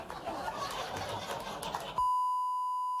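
Muffled background sound from a talk show gives way to a sudden loud, sustained pure-tone censorship bleep that holds steady for about a second.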